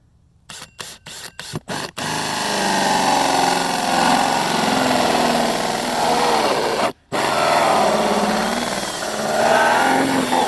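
A power tool cuts holes in PVC sewer pipe while a saddle tee clean-out is being fitted. Several short stuttering bursts lead into a loud, continuous grinding whine that breaks off briefly before resuming.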